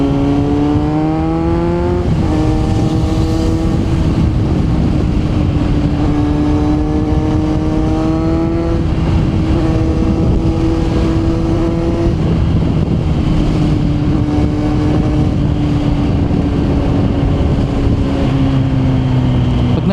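Loud buffeting wind roars over a Kawasaki Z900 motorcycle engine droning and shifting pitch as it rides along an expressway at speed, continuous and close to the microphone.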